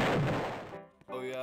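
Rockets colliding mid-air in a multiplayer shooter video game: a loud blast with a rumbling tail that fades, then a brief pop before a voice starts talking.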